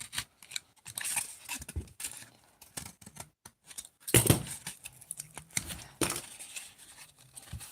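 Scissors snip through mask-making material in a series of quick, irregular close cuts, with a louder burst of snipping midway and brief pauses between strokes.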